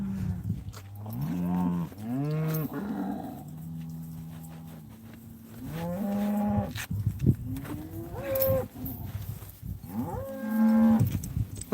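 Several cattle in a pasture herd low and moo at close range, long drawn-out calls overlapping one another from different animals, with outdoor background noise between them.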